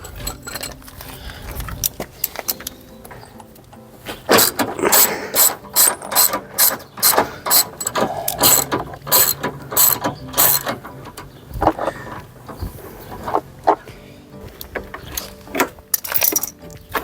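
Ratchet undoing big engine bolts on a Ford Fiesta ST150, with loud, close, rapid clicking bursts in rhythmic strokes, pausing between turns, and a little metallic clinking at the start.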